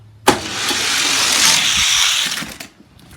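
Hot Wheels die-cast toy cars, a Corvette Stingray and a Zamak McLaren Senna, race down a track with one steady rolling rush lasting a few seconds. It opens with a sharp start and fades at the finish, with no voices.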